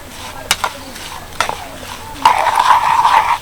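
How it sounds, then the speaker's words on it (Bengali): Green chillies being mixed with salt in lemon juice, a few sharp clinks of a spoon against the bowl, then a wetter, steady stirring scrape toward the end, close and fairly quiet. "এবার ভালো করে মিশিয়ে নেবো"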